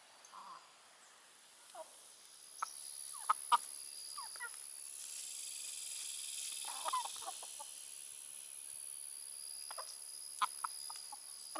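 Backyard chickens and a rooster clucking on a hot day, scattered short clucks and calls of moderate loudness over a steady high insect-like hiss.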